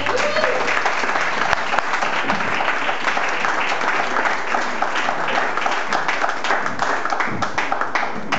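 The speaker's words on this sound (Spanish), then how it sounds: "Así que un aplauso grande para Leo Silva." Steady, loud applause from an auditorium audience in Mar del Plata for performer Leo Silva, with dense clapping throughout.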